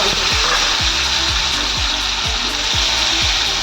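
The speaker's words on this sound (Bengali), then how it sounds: "টমেটোটা যতক্ষণ না পুরোপুরি ভাজা হয়ে যাচ্ছে" Steady, loud sizzling of tomato frying in hot oil, with repeated scraping or rubbing strokes from a utensil at a regular rhythm.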